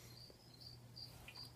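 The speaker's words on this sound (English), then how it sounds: "We will leave you with the sound of some crickets." Crickets chirp faintly outdoors in a steady, repeated high trill with short pulses, alone with no voices.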